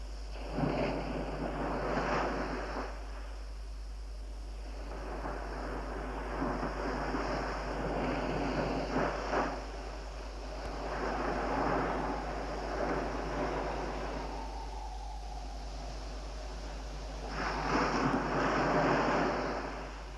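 Wind gusts sweep over breaking sea waves near a desert camp at dawn, with loud surges of surf swelling and fading in slow repeated waves over a steady rushing roar, and no voices.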